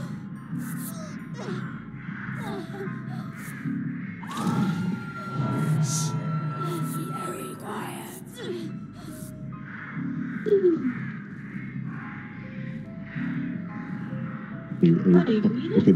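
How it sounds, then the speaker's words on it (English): Crows caw repeatedly amid the eerie ambience of the video game Dead by Daylight, scattered calls rising over a low hum while people talk over much of it. "Man, I hear like an overwhelming amount of birds right now."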